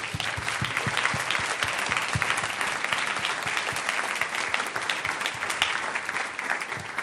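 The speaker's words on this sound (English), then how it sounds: "please stand for a round of applause" Sustained applause fills a governor's budget town hall as an audience claps for standing students, dense and steady for several seconds without speech.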